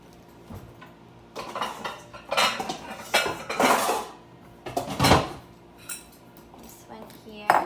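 A mixing bowl is pulled from a kitchen stack with clattering dishes, clinking metal and knocking bumps in several bursts, close and fairly loud, with no talk over it.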